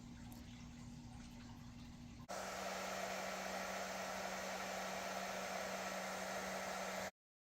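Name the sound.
hair dryer blowing on medium heat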